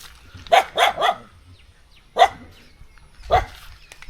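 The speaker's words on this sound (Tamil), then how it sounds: "ஒரு நாய் நம்மளை ஃபாலோ பண்ணி வருது வித்தியாசமாக குலைக்குது நம்மளை பார்த்துட்டு" A dog barks oddly while following people outdoors near the Thondur caves and fields, with a quick burst of three barks, then two more single barks spaced apart at moderate distance.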